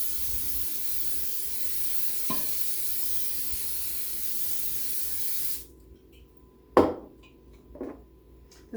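Cooking spray hisses steadily from an aerosol can as it coats a cake pan, a long close spray that cuts off abruptly, followed by a couple of light clatters from the pan.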